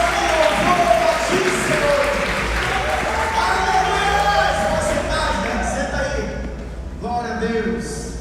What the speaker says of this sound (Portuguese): dê o maior aplauso que você pode dar ao Senhor Jesus Cristo